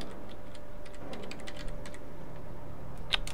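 Brisk typing on a computer keyboard, a steady run of close, light key clicks with a slightly sharper tap near the end, no voices.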